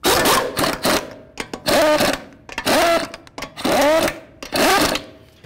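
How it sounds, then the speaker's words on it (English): A pneumatic impact gun bottoms out lug nuts on a 2005-2016 Ford Mustang front wheel after hub and bearing replacement, five loud close rattling bursts with short pauses between. "Start on all your lug nuts and then bottom them out."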